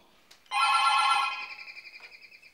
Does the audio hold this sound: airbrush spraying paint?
no